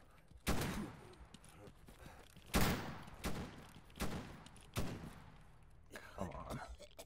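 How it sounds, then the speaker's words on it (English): Shotgun blasts in S.T.A.L.K.E.R. GAMMA, several heavy booming shots spaced about a second apart, loud and close, each followed by a short rumbling decay, with some talk in the background. "Shotgun."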